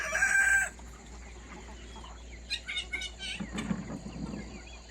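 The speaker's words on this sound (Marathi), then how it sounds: "हे पहा कोंबडी" A rooster crows loudly at the start, then free-range desi hens cluck and chatter nearby in short bursts over quiet ambience on a country chicken farm.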